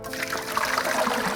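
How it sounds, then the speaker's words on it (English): Liquid being poured from a bucket into a cooking pot for boiling down, a steady close splashing trickle with bubbling water texture, continuous for over a second with no talking. "now we're gonna pour it into the bucket"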